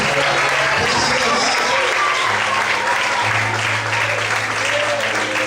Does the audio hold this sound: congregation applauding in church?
yes